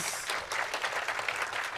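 A room full of people claps together, a dense, even burst of applause at moderate distance.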